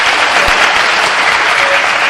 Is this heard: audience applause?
yes